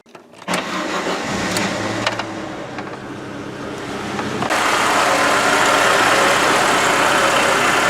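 A Chevrolet Niva engine, just back together after timing-chain work, cranks and catches, then settles into a steady idle before rising to a louder, sustained run, heard close and without talk.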